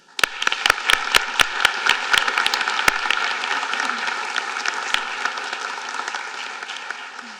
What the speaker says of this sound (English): please join me in giving these students a round of applause